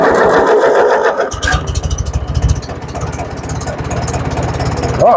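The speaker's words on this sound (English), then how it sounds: "Been a little while since I fired her up. Let's see if she'll even try to crank." A small engine that has sat unused for a while cranks over in rapid, steady pulses, then catches and runs rough and loud, close by.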